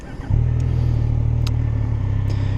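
A 2019 Yamaha Niken three-wheeled motorcycle with its CP3 triple engine starts on a chilly day; after a short crank it catches and settles into a loud, steady low rumble at idle, close up.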